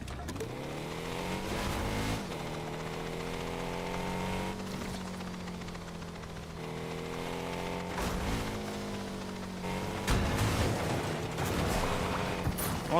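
An engine in a video game drives a weird little car, revving in long rising and falling sweeps over several seconds, with shifts in pitch and a louder surge near the end.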